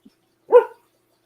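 A lone, short bark from a puppy, close and clear, sounds in an otherwise quiet moment.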